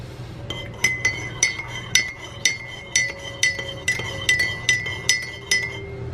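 Ice cubes dropping one after another into a glass, a series of sharp, close clinks in an irregular rhythm over a low background hum.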